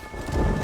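Thunderstorm in the video game Red Dead Redemption: a brief, dense wash of rain and low rumbling thunder, fairly loud and steady with a faint tonal hum beneath.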